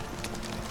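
Roach, the horse in The Witcher 3, trots with a quick run of hoof clip-clops, steady and fairly close, alone without talk.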